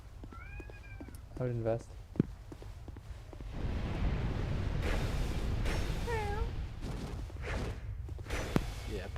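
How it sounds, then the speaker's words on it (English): A fussy cat meows several times, two short, clear calls near the start and another drawn-out one later, heard close by among soft thumps and a person talking. "It's a reward being able to hear a cat meow."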